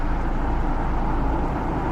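A car's engine rumbles low and steady as the vehicle creeps along slowly, a continuous hum with no voices.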